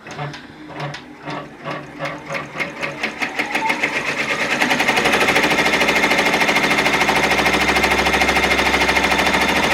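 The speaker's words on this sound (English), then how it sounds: "Now that's going to do the first placement stitch for the letter." An embroidery machine sews a placement stitch for an appliqué, starting with slow separate needle strokes that speed up into a fast, loud, even mechanical chatter.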